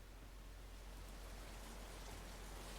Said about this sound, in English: stirred awake by the sound of rain dropping on a wooden surface and the feeling of rain dropping upon your head